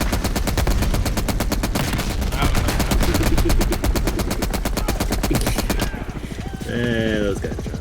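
Rapid bursts of automatic gunfire in Call of Duty: Black Ops Cold War rattle continuously for several seconds, loud and dense, then give way to quieter game sounds and a brief tonal effect.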